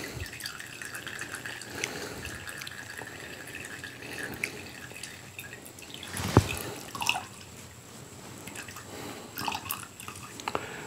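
Liquid from a coconut moonshine infusion drips and trickles as it is strained, soft close splashes with a sharper clunk or splash midway.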